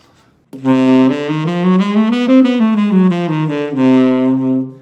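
Guitar runs through a whole half diminished scale, a steady stream of clear single notes climbing and falling in close succession, sounding alone and close, with no talking.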